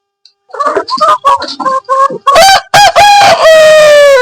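Chickens cluck in short, close, irregular bursts, then a rooster lets out a loud, drawn-out crow that rings over the flock.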